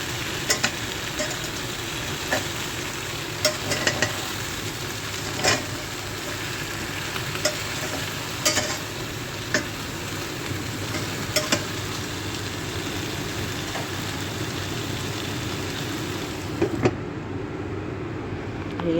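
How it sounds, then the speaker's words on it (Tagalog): Eggplant frying in a pan that tends to stick, stirred slowly with a utensil, gives a continuous loud sizzle broken by scattered scraping clicks across the stretch, with no talking. "Iba yung ating kawali. Kaya dahan-dahan lang paghalo."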